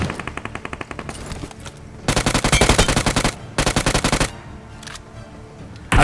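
Automatic gunfire from PUBG Mobile as players knock down bots: loud, rapid bursts of machine-gun shots in several clusters, separated by short pauses, with a final shot at the end.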